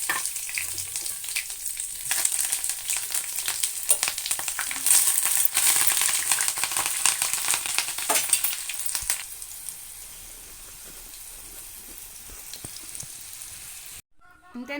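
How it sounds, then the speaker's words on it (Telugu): Curry leaves and green chillies deep fry in hot oil for cabbage 65, giving a loud, crackling sizzle with scattered pops that eases to a softer steady hiss before stopping abruptly near the end. "ఇప్పుడు కరివేపాకు, పచ్చిమిర్చి డీప్ ఫ్రై చేసుకోవాలండి."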